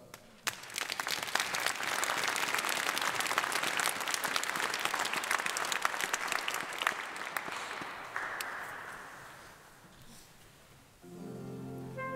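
Audience applause at a choir's Christmas concert, a dense sustained clapping from a full hall that swells, holds steady, then gradually thins out before a brief burst of music-like tones near the end.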